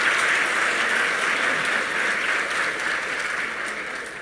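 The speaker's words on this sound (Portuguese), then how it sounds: "nós estamos aplaudindo essa senhora anônima, com o grande exemplo que ela nos deu." Audience applause at a Spiritist lecture: dense, steady clapping from a large crowd that fades slightly toward the end, with no speech.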